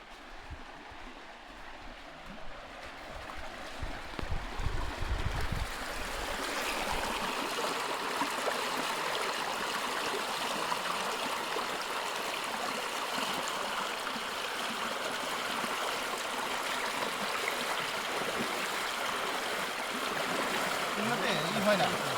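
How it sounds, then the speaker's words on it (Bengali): Water of the large Ruposhi waterfall, dropping from a great height, roars as a steady broadband rush that swells after a few seconds and holds loud and continuous, with people talking over it. "এই ঝর্ণাটা বড়, রংধনু দেখা যায়, মানে অনেক হাইট থেকে পানি পড়ে তো"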